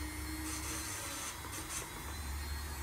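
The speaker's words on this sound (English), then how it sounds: "but mostly we drill rocks." Rocks being drilled and sanded make a quiet, continuous grinding hum. Brief raspy scraping bursts rise above it, and no one speaks.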